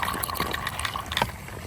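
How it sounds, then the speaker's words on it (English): Water trickling and splashing as an above-ground pool pump runs to drain the pool to waste while it is winterized, a steady close wash of liquid noise throughout. "I'm gonna switch this to bypass to waste. And then I'm going to turn the pump on."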